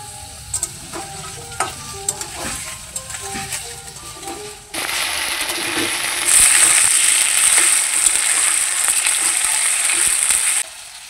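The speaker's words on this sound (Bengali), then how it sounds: "আলুটাকে দিয়ে দিচ্ছি, আর গাজর একসঙ্গে একটু ভেজে নেব।" Potato and carrot pieces frying in a pan with ginger and whole spices, starting with clatter and stirring, then breaking into a loud, close, continuous sizzle that hisses strongly for several seconds.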